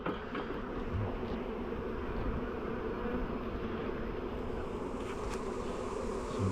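Honey bees from a nucleus colony buzz steadily around their new hive, a dense, continuous drone holding close and loud throughout with no voices.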